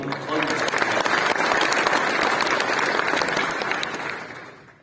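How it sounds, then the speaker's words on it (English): An audience at a Filecoin tech conference opening keynote in Bangalore gives a steady round of applause, a dense wash of clapping that holds evenly before tapering off at the end. "Please, a round of applause for all you."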